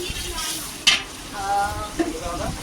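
Chicken with green chilies and ginger sizzles in a pan while being stirred: a steady frying hiss with a couple of sharp utensil clanks against the pan, close and fairly loud.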